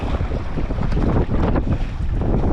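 Steady, loud wind roars and buffets the microphone of a sea kayaker paddling into a headwind along a cold coastline, with broadband gusts and a wash of waves and water throughout, no voices.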